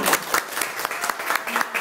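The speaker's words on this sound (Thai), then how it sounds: "ขอเสียงปรบมือให้พี่เต้ด้ค่ะ" Audience applause at a stage event, a steady patter of many hands clapping at moderate loudness with slight surges, no voices over it.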